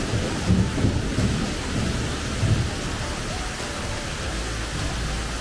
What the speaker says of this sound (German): der Donner ist teilweise so laut, dass das ganze Haus vibriert